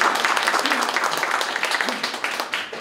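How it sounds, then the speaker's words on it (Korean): A crowd at a political lecture on constitutional reform claps in a thick, steady round of applause, loud and continuous, with a voice faintly mixed in beneath. "마지막 박수 한번 쳐주십시오."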